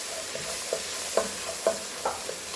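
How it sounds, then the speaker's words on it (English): Flour is stirred into a pot of beef stew, a soft steady sizzle underneath a few distinct scraping strokes of the spoon about every half second, close by with no talk. "you're going to stir that up"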